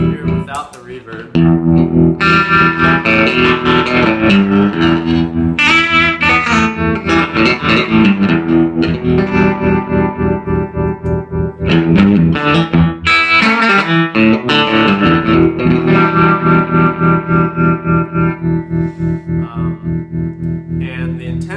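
Clean guitar through a Stovall DR-22 amplifier, a Deluxe Reverb-style amp, with tremolo on and reverb off, strummed chords pulsing in a steady, fairly quick rhythmic throb, loud and close throughout.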